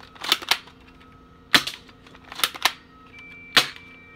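An airsoft gun fires BBs in separate sharp snapping shots, about six in a few seconds, some in quick pairs, loud and close with short gaps between them.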